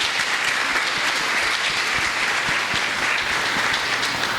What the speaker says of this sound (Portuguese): Vamos dar uma salva de palmas para você.